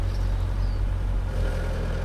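A car engine in My Summer Car runs with a loud, steady low rumble and throb, close and continuous throughout, no voices over it.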